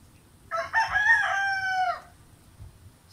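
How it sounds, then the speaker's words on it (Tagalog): A rooster lets out a single full crow lasting about a second and a half, clear and fairly near, against a quiet background hum. "Masensya na kayo sa mga manok. May mga manok kasi dito."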